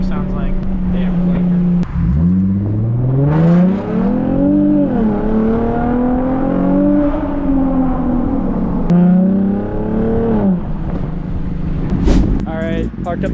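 Modified Lexus engine revs and downshifts while driving, rising and falling engine tones that climb, dip and climb again across several gear changes, loud and close from inside the car, with wind noise around it.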